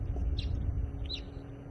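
A fork-tailed drongo mimics another bird, giving two short, high chirps a moment apart over a steady low rumble in an outdoor safari setting.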